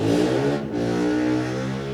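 An engine revs loudly in the video game Forewarned, a sustained, close droning roar with a brief dip in pitch before climbing again.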